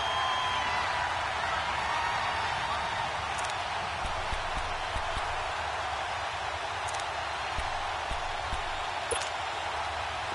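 Stadium crowd in a PS4 football video game, a dense, steady roar of cheering that swells slightly as a big third down approaches, with faint scattered claps and thuds.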